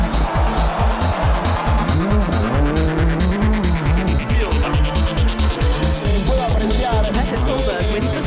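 Rally cars roar through a stadium super special stage at the 2006 WRC Rally Argentina, loud revving engines with rapid gear changes and tire noise, a crowd beneath, and a commentator speaking over it.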